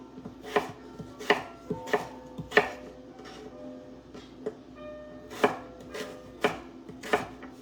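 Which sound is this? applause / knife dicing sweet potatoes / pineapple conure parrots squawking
knife dicing sweet potatoes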